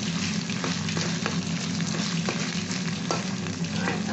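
Mashed beans stirred and fried in a pan, with a loud continuous sizzle and periodic scraping strokes of the spatula, close up and without voices.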